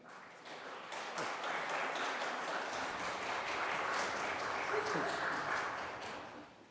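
Applause from legislators and guests fills the New York State Senate chamber after a resolution vote for Women's History Month, a steady mid-level wash of many hands lasting several seconds, with faint murmuring voices underneath.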